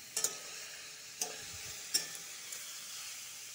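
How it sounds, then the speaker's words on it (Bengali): Finely chopped, squeezed taro frying in hot oil with salt and turmeric, a faint soft sizzle broken by a few sharp spatula taps and stirring scrapes, quiet and close with no voices. "ভালো করে কচুটা ভেজে নিব।"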